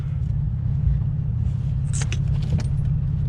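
A 2009 Mitsubishi Eclipse GT idles with a low, steady engine rumble as it begins to pull away, close up from inside the cabin, with a few faint clicks and rattles on top and no speech.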